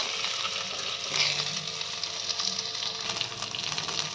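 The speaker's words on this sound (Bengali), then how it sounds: "পেঁয়াজটা ভালোভাবে ভেজে নিতে হবে।" Chopped onion fries in a pan for doi (dahi) chicken, giving a steady close sizzle with occasional stirring scrapes and no voices.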